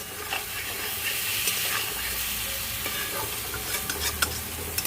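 Cottage cheese balls frying in spiced oil give a constant close hiss and sizzle, with repeated light scrapes and taps of a stirring spoon that get busier toward the end, and no one speaking.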